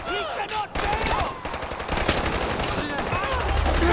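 Machine gun fire in the video game Far Cry 4 rattles in fast sustained bursts, loud and close. Shouting voices come through under the shooting.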